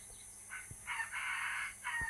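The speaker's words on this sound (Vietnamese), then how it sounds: "Đó, tiếng gà rừng ấy." A red junglefowl crow rises and holds for about a second, with shorter calls before and after, fairly distant over quiet background at a bird farm.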